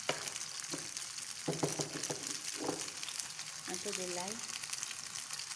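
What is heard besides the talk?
pasta sautéing in butter in a pan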